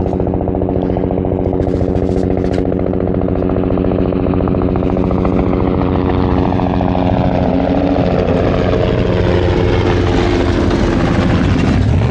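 A helicopter drones loudly and steadily over a desert off-road race, its rotor and engine noise filling the whole stretch without letup.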